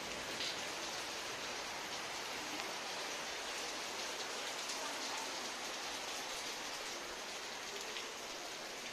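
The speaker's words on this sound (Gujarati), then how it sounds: "પાછો વરસાદ ચાલુ થઈ ગયો છે." Heavy nighttime rain pours down in a constant, close wash of patter and hiss, uniform from start to finish with no talking heard.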